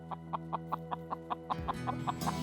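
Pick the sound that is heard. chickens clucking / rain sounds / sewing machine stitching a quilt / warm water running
chickens clucking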